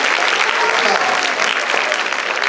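An audience applauds a boy, a thick, even roar of clapping that stays loud and unbroken, with a few sharp individual claps standing out near the front.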